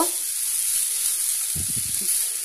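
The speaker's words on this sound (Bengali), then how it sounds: "আমার দুটো রাঙা আলু আছে এবার এটা আমি ভালো করে ভেজে নেব" Sweet potato frying in a pan, a steady bright sizzle and hiss throughout with a short burst of stirring and clatter near the end.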